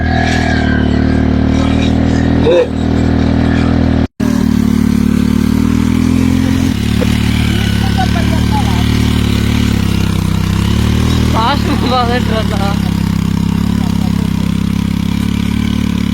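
A motor vehicle's engine drones loud and steady while pulling a bladed weeding implement through a field, with brief clattering and a short cutout near the start and no pauses otherwise.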